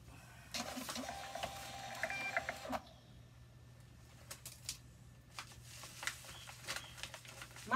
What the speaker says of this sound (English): My poor little printer is definitely getting its work out